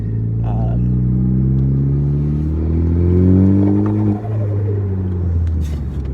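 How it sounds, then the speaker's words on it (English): A Ford Focus ST drives hard in a parking lot figure-eight, its engine note rising and falling with loud turbo flutter and rumble, close and continuous. "And that turbo flutter never gets old."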